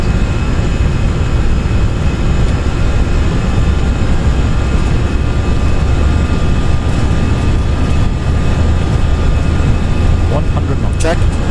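Airbus A320 engines spooling at takeoff thrust in the Prepar3D flight simulator, a steady loud broadband roar with a constant whine running unbroken through the whole stretch, with brief clicks near the end.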